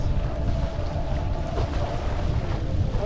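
Strong, steady wind gust roars across the microphone while kitesurfing on flat water with a 10-meter kite and board in roughly 12-knot wind, a continuous low rushing noise with no voices.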